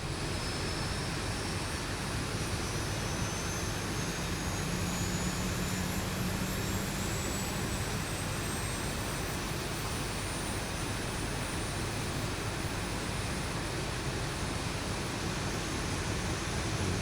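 Boeing 737 jet engine spooling up inside the X-Plane 11 flight simulator cockpit, a steady loud broadband roar with a faint rising whine held evenly throughout.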